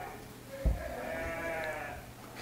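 One close sheep bleat, drawn out and wavering, rises over quiet farmyard background noise at a sheep farm.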